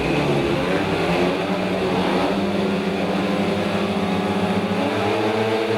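Speedway motorcycles leaving the start of a race heat at a track, engines snarling loud and steady in a dense, continuous roar.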